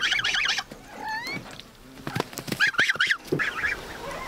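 Geese and goslings on a village farmyard honk in bursts of loud nasal calls mixed with higher thin peeps, several birds close by and overlapping, with no talking.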